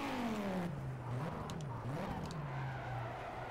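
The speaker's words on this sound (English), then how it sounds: "I did a normal downshift there. You see I blipped the throttle on the downshift a little bit." A car in the racing game Project Cars drops a gear with a throttle blip: the engine note sweeps downward, rises in two quick blips, then settles into a steady drone under tire noise.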